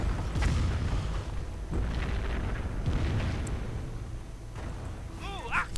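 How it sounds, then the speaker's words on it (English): A StuG (Sturmgeschütz) assault gun fires in a World War II video game battle: several heavy booms spaced a second or so apart, set in a continuous rumbling wash of battlefield noise. "Just firing the Stug into the darkness"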